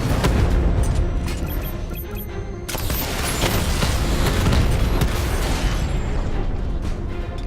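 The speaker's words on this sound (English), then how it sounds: "Your 60mm cannon will penetrate these heavily armored units. It'll take a few direct hits to destroy them." Heavy 60mm cannon fire slamming into armored units in Batman: Arkham Knight, a dense, continuous barrage of booms and bursts that briefly dips before swelling again, loud and relentless.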